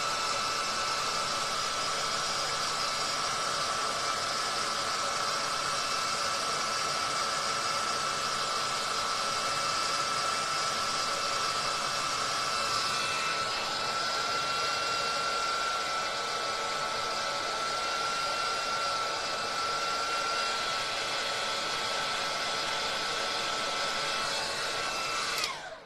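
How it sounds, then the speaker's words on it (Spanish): A handmade rag doll head is dried with a steady, loud rush of blowing air that runs unbroken for the whole stretch, with no talking. "Voy a secar."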